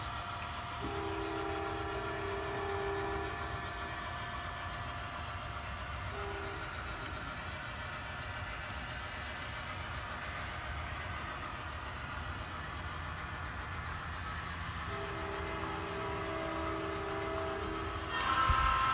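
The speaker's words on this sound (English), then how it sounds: "Oak Hill train is blowing for Eastern Avenue right now" An Oak Hill train horn blows for the Eastern Avenue road crossing near Union Springs, with several sustained blasts separated by gaps. The blasts sound distant and moderately loud over steady wind and ambient noise, with a faint chime-like tone running throughout.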